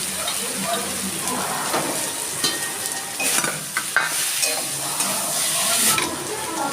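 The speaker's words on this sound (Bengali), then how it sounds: "আমি আলুটা দিয়ে দিচ্ছি।" Potatoes are tipped into a pan of fried onions for a chickpea bhuna, with a steady sizzle and a few sharper clatters and scrapes as they land and get stirred.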